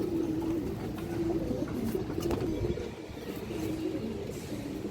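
A high-quality black male pigeon coos in repeated low, throaty phrases, close by and fairly loud over a steady background murmur, with no voices.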